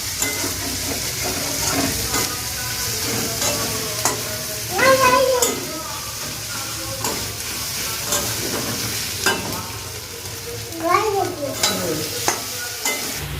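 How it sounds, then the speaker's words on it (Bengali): Ginger frying in a pan for meat khichuri, a constant close sizzle with repeated scraping stirs of a spatula across the pan. "আদাটা দিয়ে আমি অল্প ভেজে নিয়েছি"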